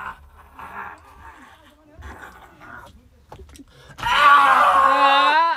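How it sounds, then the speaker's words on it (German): People screaming loudly inside a soundproof booth, a sustained, strained wail that bursts out after a stretch of quiet voices and breathy sounds, close and intense until the end. "sollen wir richtig laut schreien?"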